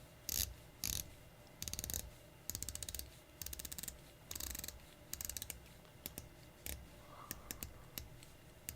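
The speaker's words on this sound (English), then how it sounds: "the bezel itself, even with the gloves, I can get nice grip and purchase on there. 120 clicks." PONTVS Sub Fifty-Three dive watch's 120-click bezel being turned by hand, bursts of crisp, fine ratcheting clicks in short runs separated by pauses, close and fairly quiet.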